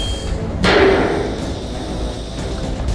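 Hammer blow in the horror game Man of Medan, a single heavy impact with a sharp thud and brief ringing decay, followed by quieter knocks against a steady room hum.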